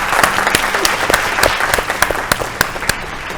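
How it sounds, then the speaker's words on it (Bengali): A studio audience claps loudly on the Bengali family game show Sera Paribar. The applause is dense and steady, with sharp individual claps standing out, and it carries on without a break for a few seconds. "দুজনের জন্য জোরে হাততালি একবার সবাই।"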